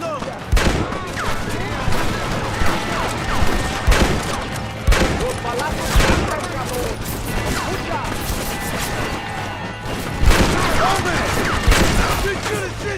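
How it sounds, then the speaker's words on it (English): Machine gun and rifle fire rattles through a battle at a mansion in the Red Dead Redemption video game, with sharp repeated bursts and blasts over a steady background, while voices shout under the gunfire. "They have a machine gun!"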